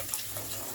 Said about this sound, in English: And then we're just going to fill this with some cold water here.